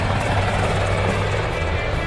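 Helicopter in flight, a steady loud rotor drone with low pulsing thump, constant throughout with no voices.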